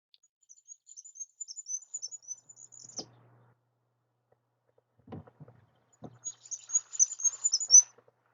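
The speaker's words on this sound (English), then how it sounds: "really important to learn the Goldcrest song because they're so small, so secretive" Goldcrest singing, a very high, thin series of rapid notes in two bursts separated by a quiet pause, faint and fairly distant, with a few soft knocks in between.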